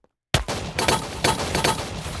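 Rapid bursts of shotgun fire in a video game, several loud booming shots in quick succession right after a short silence, continuous and close.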